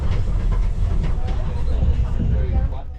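A Peru Rail train rolls along with a loud, steady rumble and hiss, the carriages giving a rhythmic clickety-clack, heard from inside with faint babble of passengers beneath.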